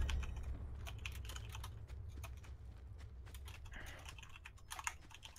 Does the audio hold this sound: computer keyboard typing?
yes